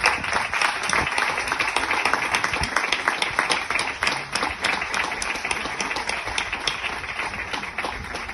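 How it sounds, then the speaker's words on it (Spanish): A crowd applauds a Xanina at a 2021 proclamation ceremony, steady dense clapping with sharp individual claps standing out, continuous and fairly close for several seconds. "Un aplauso para ella."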